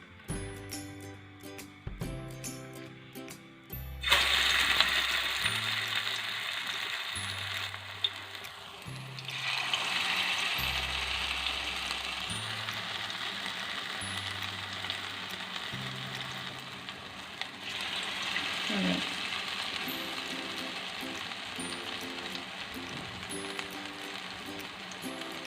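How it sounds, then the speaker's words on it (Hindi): Broccoli cheese fritters fry in a little oil, giving a steady, bright hiss that starts a few seconds in and carries on evenly under a background music bed. "इनको हम बिल्कुल थोड़े से ऑयल में फ्राई कर रहे हैं"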